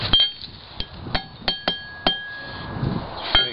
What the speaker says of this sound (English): you just hammer it out